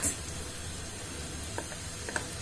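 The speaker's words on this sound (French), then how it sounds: "J'ai déjà mis de l'huile à l'intérieur. C'est en train de chauffer." Oil heats in a cooking pot, giving a steady, soft sizzling hiss with a few faint ticks and pops scattered through it.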